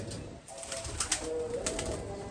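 Pigeons kept in a loft give off a steady, close cooing with brief soft bird calls and a faint flutter of wings over a low background hum.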